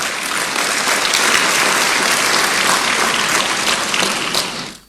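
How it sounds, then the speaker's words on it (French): A large audience at a formal ceremony for the opening of an October parliamentary session applauds political leaders warmly, dense sustained clapping that holds steady for several seconds before quickly fading out. "de les acclamer fortement"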